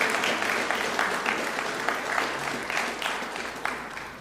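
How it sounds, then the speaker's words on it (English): Steady, sustained applause from a crowd at a city press conference, dense clapping at an even level throughout without pause. "give a round of applause to the Goodwill neighborhood where the shelter is located"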